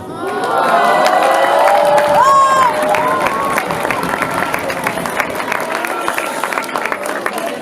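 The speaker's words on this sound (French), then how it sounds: "c'est la dernière fois que vous pourrez applaudir Madame Robin" A loud crowd cheers and claps, with whoops and shouting voices over dense applause that continues throughout.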